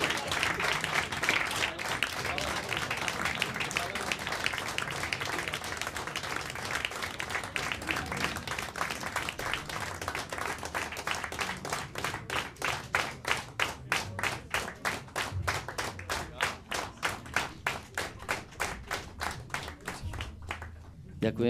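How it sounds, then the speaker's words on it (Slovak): A concert audience at the Pohoda show on Klepáč claps steadily for an encore, the applause starting as a dense wash and settling into loud, rhythmic unison clapping, with a few voices underneath. "Ďakujem vám pekne za váš potlesk"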